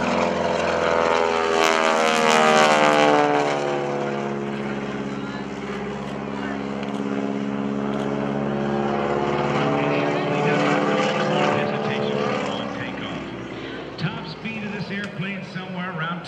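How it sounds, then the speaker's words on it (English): Bill Leff's propeller airplane taking off at the 2012 NAS Pensacola Air Show, a loud, rasping propeller drone with a harsh buzzing edge from the supersonic blade tips, sustained and shifting in pitch as it passes, with an announcer talking over it. "You're going to hear something very unique, and it's the sound of the propeller tips going supersonic."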